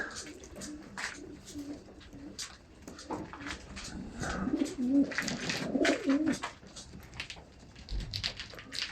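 Pigeons from German and Polish breeding lines coo repeatedly in a loft, soft throaty calls rising in the middle, with other faint bird and animal noises around them.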